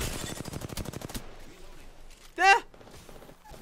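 Rapid automatic gunfire in the video game Apex Legends, a tight string of regular shots that stops after about a second, then quieter game sounds and a brief spoken word.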